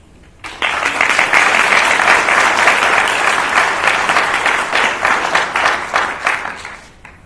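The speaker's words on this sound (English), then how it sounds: "all of our volunteers deserve a round of applause" Sustained audience applause for volunteers at an evening awards gathering, a loud, dense crowd of clapping that starts abruptly and rolls on for about six and a half seconds before tapering slightly.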